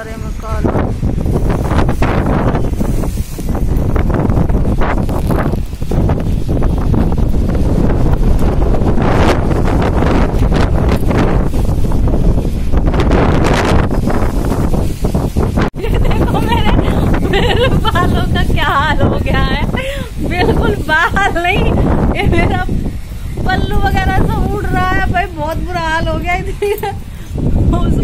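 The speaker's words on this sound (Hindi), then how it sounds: "उसमें ना हवा चल रही है" Strong gusting wind of a dust storm buffets the microphone in a loud, continuous roar, with people talking over it and laughing in the second half.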